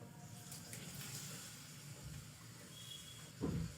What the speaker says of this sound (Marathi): आता यामध्ये आपण गरजेनुसार पाणी घालायचं